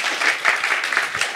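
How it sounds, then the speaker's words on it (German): A brief burst of applause at a science slam, many hands clapping together in a dense, even patter. "das finde ich schon, ist ein Applaus wert"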